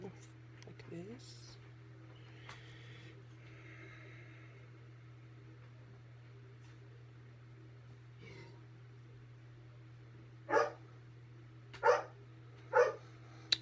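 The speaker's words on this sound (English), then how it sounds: "the dog started barking at him like he didn't like it" A dog barks three times in quick succession near the end, fairly close and sharp, over a steady low indoor hum with little else going on before it.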